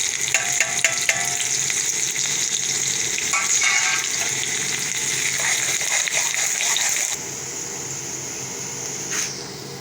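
Onions and bay leaves fry in hot oil in a karahi pot for beef karahi gosht, a dense, continuous close sizzle with crackles and stirring scrapes that settles into a softer, steadier hiss toward the end.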